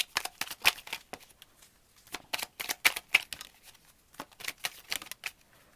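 Tarot de Marseille cards drawn and handled, with a series of quick, soft slapping and sliding card sounds in irregular bursts, close and fairly quiet, with no talking.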